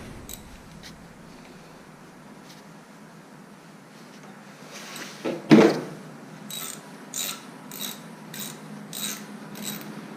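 An Allen wrench at work on BMX bike parts, with light metallic scraping and a sharp clank, then a series of evenly spaced ratcheting clicks close by, without any speech.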